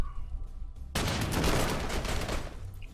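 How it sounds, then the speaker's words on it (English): Artillery barrage in the World War II strategy game Panzer Corps 2: after a quiet moment a sudden loud burst of booming explosions erupts and rolls on continuously, dense and heavy for the rest of the moment. "Oh, there's the artillery."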